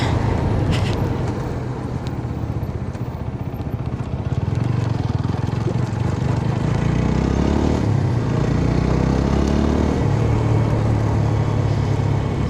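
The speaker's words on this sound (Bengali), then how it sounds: "Motor bike." A motorbike engine drones steadily nearby on the Dhaka–Mawa Expressway, rising and shifting in pitch as it passes, with road noise throughout and no talking.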